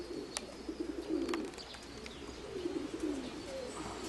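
Soft, throaty pigeon coos repeat in short rolling phrases, fairly close, over quiet background hiss with a couple of faint chirps.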